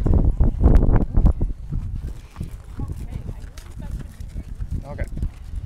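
Horse hooves clip-clop on a farm in Amery during a horseback riding session, a run of loud thudding steps up close at first, then softer uneven footfalls as people talk nearby.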